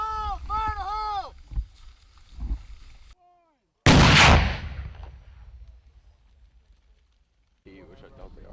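A US military mortar fires once during a live-fire exercise: a sudden loud, close blast with a long rumbling decay. Shouting voices come before it and quieter talk resumes afterward.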